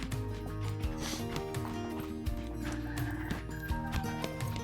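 A trained horse trots along with rhythmic hoof clip-clops mixed with neighing and whinnying calls, close and fairly loud, with no voices.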